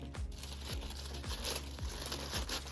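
Tissue paper is torn by hand, a quick series of soft, close ripping and crinkling sounds repeating about every half second in a quiet room.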